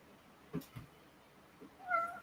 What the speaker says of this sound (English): That's what that meowing was.